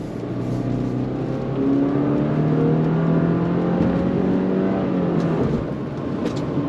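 A 2026 Subaru Forester Wilderness with a naturally aspirated engine accelerates under throttle in Sport Sharp mode, heard from inside as a steady, moderately loud engine drone that rises in pitch, then eases and climbs again.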